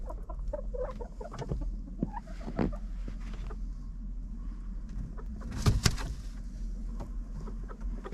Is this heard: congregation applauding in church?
no